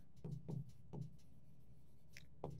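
Marker or chalk writing on a classroom board: a few short, scratchy strokes at an irregular pace, then brief pauses and one final stroke, fairly quiet and close, with no voice.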